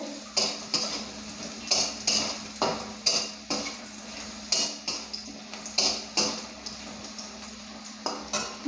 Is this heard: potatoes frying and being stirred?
yes